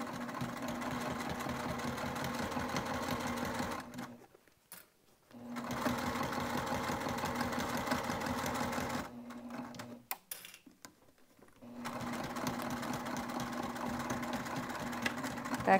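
A sewing machine back stitching a wristlet at its start, a steady rapid mechanical chatter in three long bursts separated by short pauses, fairly quiet and close with no talk.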